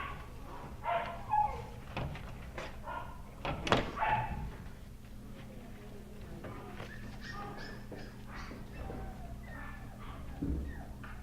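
A cage door clanks and bangs a few times, followed by soft rubbing and wiping sounds, with a dog whimpering faintly nearby.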